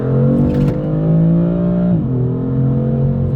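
A BMW E36 engine with a Guerrilla exhaust hums steadily under acceleration, a low droning pitch that rises, dips briefly, then settles, heard from inside the cabin with a window open, without talk.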